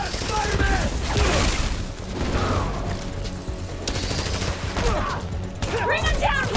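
Sustained gunfire bursts from enemies shooting at Spider-Man in Spider-Man: Miles Morales on PS4, loud and continuous over a busy combat mix of impacts and mechanical clatter, with voices shouting.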